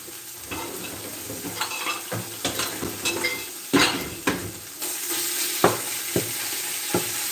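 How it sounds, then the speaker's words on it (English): Ground beef breaking up and frying in a pan, with a spatula chopping and scraping against the pan in irregular taps over a steady sizzle; nobody speaks. "Chop up the beef real quick."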